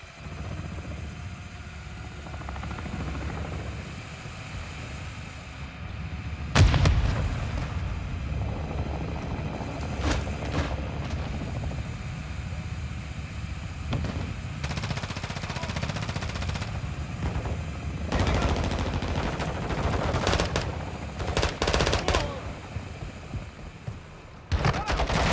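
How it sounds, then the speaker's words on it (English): Gunfight in Call of Duty Warzone DMZ, with bursts of machine-gun fire and single shots over a steady rumble of aircraft or helicopter engines, moderately loud throughout, with occasional voices. "Be ready for a gunfight."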